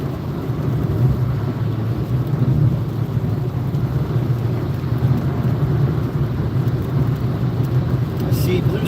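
Steady rain drums on a car driving along a North Carolina highway, a constant dense wash over a low road and engine rumble, with no break in the sound.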